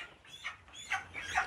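Broiler chickens on a poultry farm, 38 days old, give a few faint short clucks and chirps close by in an otherwise quiet moment.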